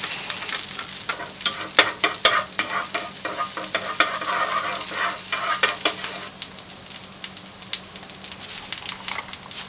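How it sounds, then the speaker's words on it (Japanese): Garlic sizzles loudly in a pan during a Gorgonzola cream sauce recipe, a dense crackling fry broken by frequent sharp pops and stirring scrapes, easing slightly toward the end, with no one speaking. "にんにく炒めます。"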